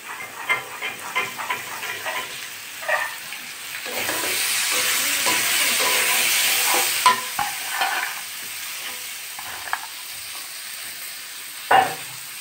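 Cut peas tipped into a hot pan of cabbage curry burst into loud close sizzling, with clinks and scrapes of a spatula stirring before and after, no voices.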